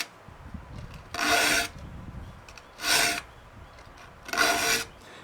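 Three separate rasping strokes of a file across the teeth of a pole saw blade, each stroke roughly half a second long and evenly spaced, close and clear with no talking.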